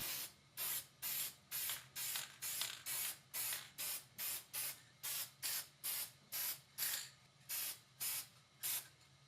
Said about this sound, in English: Then I used some spray lacquer to finish the wood.